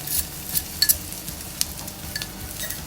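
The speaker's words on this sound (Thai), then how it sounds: "กระเทียมลงมาเจียวหอมๆกัน" Pounded garlic and chili fry in a hot wok with a brief, steady sizzle, marked by a few sharp clinks and scrapes as a spatula stirs against the metal.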